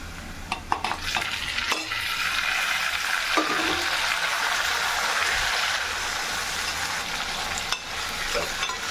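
Golden-fried onions with tomatoes just added, frying in a pan for Chettinad chicken gravy, sizzling loudly and steadily while a spoon clinks and scrapes a few times, no talking.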